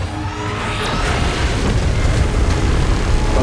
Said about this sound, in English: Is it gonna fire a beam at us?